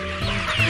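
Chickens clucking in a poultry farm henhouse at dark dawn: a short, close burst of overlapping clucks and fowl chatter, fairly loud and with no talking.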